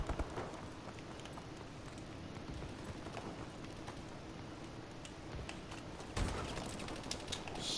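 Shotgun fire in Call of Duty: Advanced Warfare during a team deathmatch, a few sharp blasts scattered through continuous battle noise, with a loud close shot near the end.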